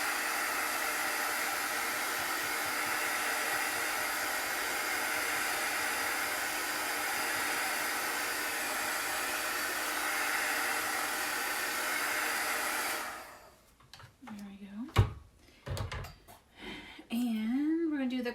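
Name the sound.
heat gun drying chalk paste on silk screen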